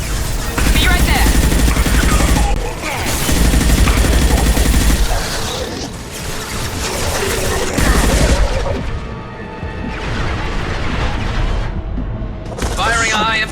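Heavy gunfire and booming high-impact shots in a sci-fi shooter battle aboard the Collector Ship, with dense bursts and blasts over music and occasional voices.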